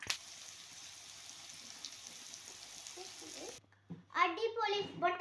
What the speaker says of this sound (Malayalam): ഒരു പാനിൽ എണ്ണ ഒഴിച്ച് ചൂടായ ശേഷം ഒരു പൊട്ടറ്റോ പീസ് ഇതിലിടുക. നന്നായി ഫ്രൈ ചെയ്യുക.